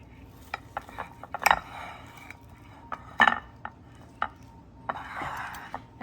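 A knife cuts into an oven-cooked steak on a plate, giving a few sharp scraping and clinking strokes against the plate, separated by quiet pauses, close and clear.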